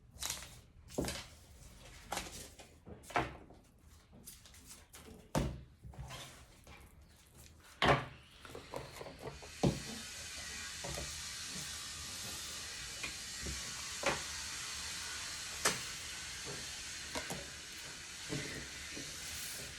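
Construction work in the next building: irregular knocks and clunks give way to a steady hissing, grinding roar that continues for a while, punctuated by occasional thuds, somewhat distant.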